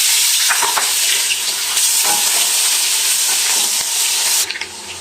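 Garlic ginger paste hits hot oil with a loud, steady sizzle and bursts of spattering, with occasional scraping as it is stirred.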